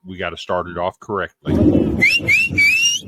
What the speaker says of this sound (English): that whistle is so loud